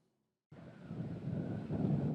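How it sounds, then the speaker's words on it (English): Strong wind buffets the microphone on a sunny day out on choppy Lake Superior during a salmon fishing trip, a loud continuous rushing roar that cuts in abruptly and builds, with no voices. "Although the sun was shining, it was a windy day out on the lake."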